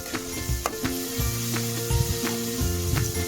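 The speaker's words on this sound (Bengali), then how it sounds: "এটা এবার ভালোভাবে আরো সুন্দর করে কষিয়ে নেব অনেকক্ষণ ধরে" Spice paste sautéing in hot oil for a mustard parshe fish curry, a loud continuous sizzle with repeated spatula scrapes and stirring knocks close by.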